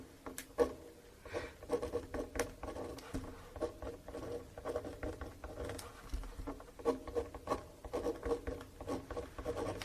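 A pen writes on paper during a police interrogation, a soft irregular scratching of strokes and taps that runs steadily throughout, quiet and close, with faint room noise behind it.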